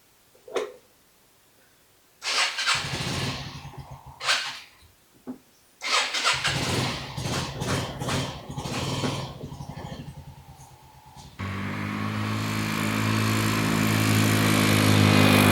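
A Yamaha Riva 180 scooter is cranked several times in short sputtering bursts, then catches and revs unevenly before settling into a loud, steady running engine drone close by.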